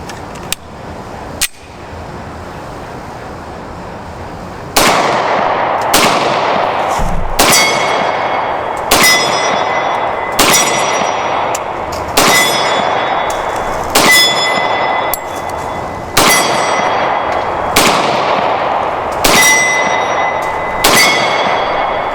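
First-generation Pennsylvania State Police Beretta PSP pistol in .40 firing from an 11-round magazine. About a dozen sharp shots come at a fairly even pace, each followed by a bright metallic ring.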